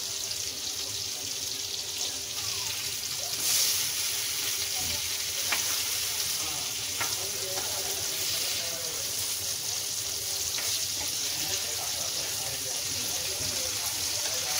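Fish sizzles steadily in a frying pan as it is flipped, a continuous close hiss with a few faint clinks and scrapes.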